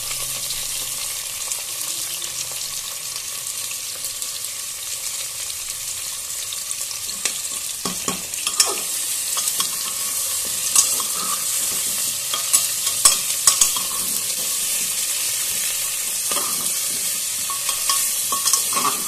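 Chopped onion, potato and tomato fry in a pan for a homestyle chicken dish, giving a steady close sizzle with occasional scraping stir strokes and light clatter throughout, no voices.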